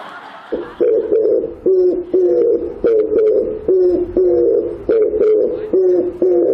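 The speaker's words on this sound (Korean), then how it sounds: "저기 맷비둘기 소리입니다" Oriental turtle doves coo in a steady, repeating series of low, hollow notes, about eleven phrases in a loose rhythm, loud and close, with faint background noise between calls.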